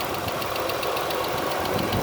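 A 2013 Dodge Caravan SXT wheelchair van with a 3.6 V6 engine and 351,000 miles idles nearby with a steady, even mechanical hum and light rhythmic ticking, no voices.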